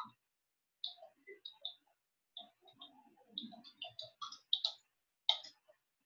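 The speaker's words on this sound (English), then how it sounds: "then I can just start typing my message." Keys tapped on a keyboard while a greeting-card message is typed, giving scattered irregular clicks in short bursts at close range, fairly quiet, with no talking.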